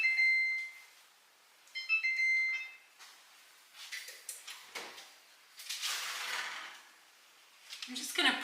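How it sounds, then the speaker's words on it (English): A kitchen timer goes off while bar sugar cookies bake, sounding as two short bursts of rapid, high electronic beeps near the start, followed by quieter kitchen clatter and rustling. "Oh, there's our timer."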